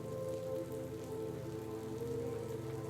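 Steady rain falls on surfaces in Edinburgh, a continuous even patter at moderate level with no voices.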